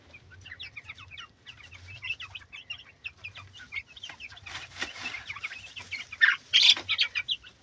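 Two young brown cockerels with white breasts on a village farm give repeated clucks and short calls, close and moderately loud, with chirping of other birds and chicks around them.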